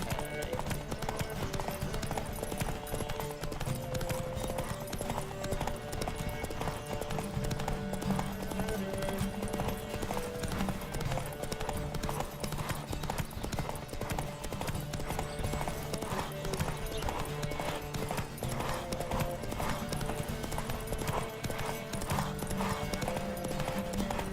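A horse gallops in a race in the video game The Witcher 3, with rapid, steady hoofbeats running throughout against a busy game soundtrack, and characters occasionally speaking over it.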